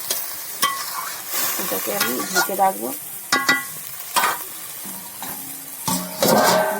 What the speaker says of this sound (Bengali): এদিকে আমি শিমটা ভেজে নিচ্ছি